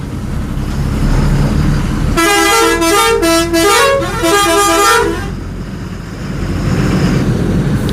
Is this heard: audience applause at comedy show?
no